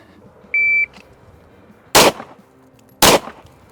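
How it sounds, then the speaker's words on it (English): A short electronic timer beep, then two sharp, loud pistol shots about a second apart, fired one-handed with the strong hand from a holster during a police shooting qualification, each crack ringing out briefly. "from the holster, strong hand only, 2 shots in 3 seconds"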